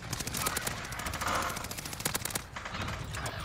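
Rapid automatic gunfire in Call of Duty Warzone rattles in dense, loud bursts, close and continuous, briefly thinning before another volley resumes.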